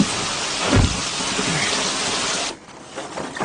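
Steady heavy rain hisses throughout, with a deep thunder rumble near the start, then the rain cuts off abruptly and fainter patter continues.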